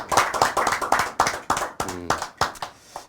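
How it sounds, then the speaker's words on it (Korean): Clapping from a small audience at a Korean speech program, a rhythmic series of close, sharp hand claps in quick bursts, with a voice briefly speaking partway through. "큰 박수 한번 주세요."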